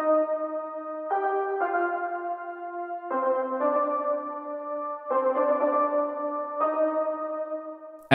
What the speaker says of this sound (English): I'm also introducing this Omnisphere preset called Solid Poly Compression, which emphasizes our little melodic phrase